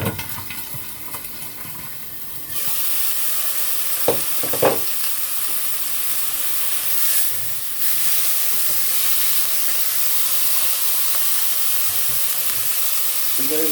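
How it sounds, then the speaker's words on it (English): Chicken breasts frying skin-down in a pan, a steady close sizzle and hiss that swells louder partway through, with a few sharp spits and pops breaking through and no talking. "I'm going to put the lid on, because this is going to start spitting like crazy"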